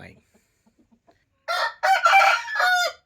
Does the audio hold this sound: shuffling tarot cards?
no